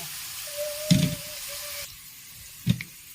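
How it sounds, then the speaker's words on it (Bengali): Potatoes frying in hot oil, a soft steady sizzle with two brief louder stirring clatters and a faint tone, no voices. "একদম লাল করে ভেজে নেব।"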